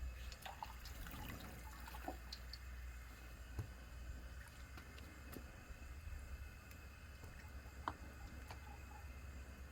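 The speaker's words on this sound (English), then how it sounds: "Soak it in the hot water." Faint water drips and trickles as a butchered chicken is soaked in a tub of hot water, with scattered small splashes over a low steady background hum.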